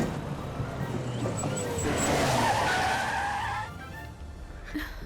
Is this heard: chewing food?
no